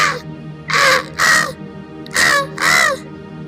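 Crows in an animated story caw at a demon, four loud, rasping calls in quick pairs close by and nothing else heard.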